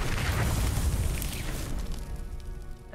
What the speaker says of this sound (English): 我一個冰魔法打埋去，佢就原地自爆咗